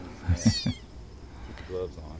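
A small kitten cries out in a quick burst of shrill mewls, then gives one more thin cry a moment later, fairly close.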